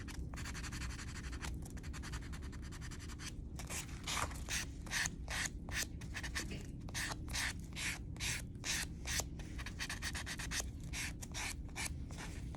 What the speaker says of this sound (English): I'm going to remove the shine from that finger using a buffing block